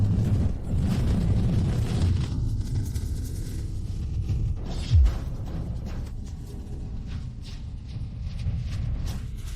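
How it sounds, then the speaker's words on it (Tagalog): A fire explosion effect: a continuous low roaring rumble with one sharp burst around the middle, loud and dense, with no speech over it. "pagsabog ng apoy"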